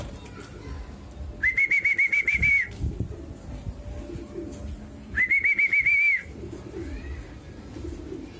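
A blue bar racing pigeon's cooing call repeats in two bursts of rapid, wavering notes as it flies in to land, with outdoor rumble and faint background noise between them.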